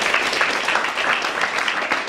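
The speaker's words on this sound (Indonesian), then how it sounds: "tepuk tangan dong" An audience at a network marketing business talk in Indonesia bursts into applause, dense continuous clapping filling the room evenly for the whole stretch, with no voices on top.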